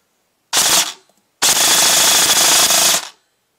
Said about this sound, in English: And full auto is a 5 round burst instead because of the power.